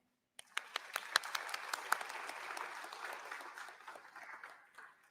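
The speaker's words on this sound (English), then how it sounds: "Give yourself a round of applause." Graduates at a high school class of 2021 graduation ceremony burst into applause, a dense wash of many hands clapping that starts sharply, holds steady, then slowly tapers off over several seconds.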